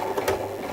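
A sewing machine runs briefly while sewing a seam joining a wedding dress skirt to its corset, a short close mechanical hum with a slight rise midway.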